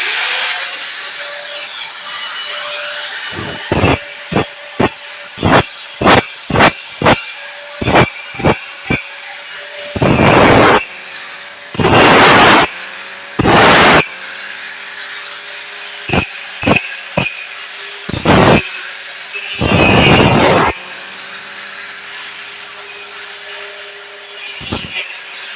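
Angle grinder in a workshop during a bench vise teardown, running with a steady high whine throughout, broken by repeated sharp bursts and longer roaring stretches as it is pressed on and off the work, loud and close.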